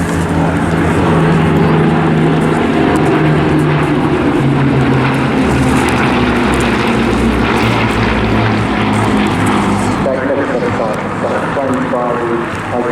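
A Bristol Blenheim and Spitfires fly in a D-Day 80th anniversary formation at the Eastbourne Airshow, a loud, continuous drone of propeller engines that rises and shifts as they pass, under a commentator's voice on the loudspeakers.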